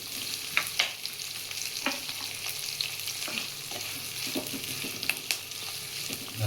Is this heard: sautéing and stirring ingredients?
yes